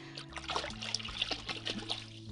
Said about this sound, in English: I was splashing and laughing until I heard some kind of splash.